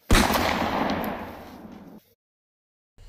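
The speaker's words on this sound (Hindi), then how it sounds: "ई कौन बम ले आई रे रे बड़ा आवाज करो लो" A Diwali firecracker bomb goes off with one sharp, loud blast close by. Its crackling rumble trails away over about two seconds, followed by silence.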